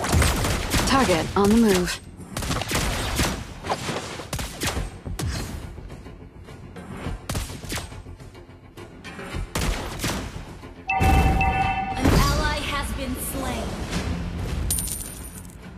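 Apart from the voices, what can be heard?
gunfire in a video game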